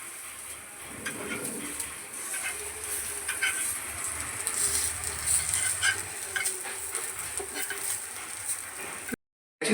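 Silver fish coated in rava frying on a tava, a steady close sizzle running through the whole clip with faint stirring and scraping now and then, ending in a brief cutoff.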